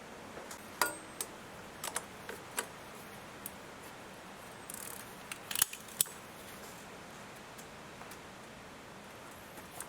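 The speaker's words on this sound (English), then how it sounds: "we're going to open the oil filter, which is located just in there. We need a big socket, 32mm." Ratchet socket wrench with a 32mm socket clicking on the oil filter housing of a 2008 VW Touran 2.0 TDI, giving scattered faint ticks and clicks with a brief rustle, close by and with no talk.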